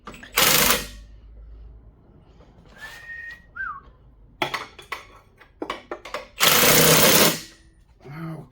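A ratchet wrench with a chrome socket works on a vehicle in a garage, giving loud bursts of rapid clicking separated by quieter pauses, with a brief whistle in between.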